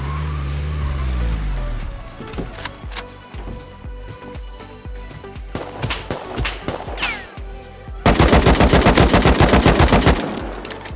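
Gunfire in the survival video game Rust: scattered single shots and short bursts crack over a car engine, then a loud, rapid automatic volley erupts near the end.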